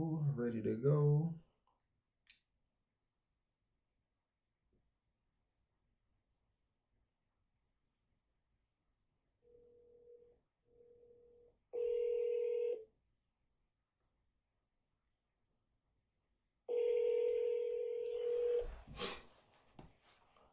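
A phone call being placed: a brief spoken line, then several short dialing tones after a pause, followed by two long, loud ringback tones with a hard click at the end, all fairly close and clear.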